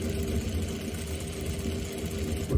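A sewing machine runs steadily, stitching a tie top as the fabric is held straight, with a continuous low motor hum throughout.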